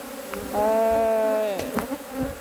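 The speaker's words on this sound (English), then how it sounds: "this is a swarm that's gone in" A honey bee swarm that has moved into an empty brood box, close up with a loud, sustained buzzing drone that swells, holds steady for about a second and then fades into scattered lighter buzzing.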